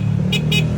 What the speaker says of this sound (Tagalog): Ito naman yung horn test nila.